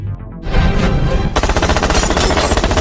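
Gunfire in a revenge action film, with a burst of shots and then a sustained, dense rapid-fire barrage, loud and close, with no talking over it.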